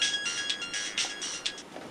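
A mobile phone ringtone plays during a Maithili comedy sketch, a bright repeating electronic melody with short pulsing notes over about two seconds, fairly close and heard alone without talk.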